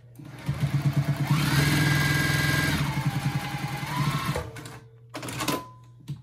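A sewing machine stitches a fabric bowl cozy along a marked line, running steadily for about four seconds with a rhythmic needle pulse, then stopping, followed by a short softer burst.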